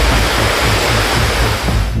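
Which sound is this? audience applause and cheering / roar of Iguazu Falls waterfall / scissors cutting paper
roar of Iguazu Falls waterfall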